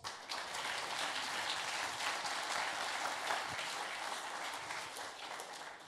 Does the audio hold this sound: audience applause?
yes